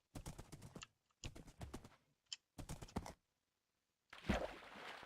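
Hooves of a horse in Minecraft clip-clopping in quick rhythmic bursts separated by short pauses, ending in a louder rushing burst, with no talk.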